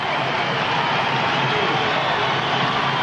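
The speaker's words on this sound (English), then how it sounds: "Listen to the crowd applauding the Bradley defense." A dense, steady roar of a basketball arena crowd at a 1985 ISU versus Bradley game, broad and continuous applause and cheering heard from within the stands.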